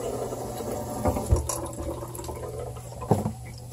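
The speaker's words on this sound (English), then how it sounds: "So we're going to turn on the water." Water running from a leaky household tap, a steady broadband rush with a few louder gurgling surges partway through, fairly close and with no voices.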